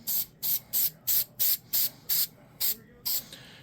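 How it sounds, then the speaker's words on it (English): Activator spray on a hydro-dipped Warhammer 40k model: ten short, sharp hissing bursts from a spray can or bottle in an even rhythm, close and crisp, separated by brief silences. "I'm going to go ahead and spray this with some activator."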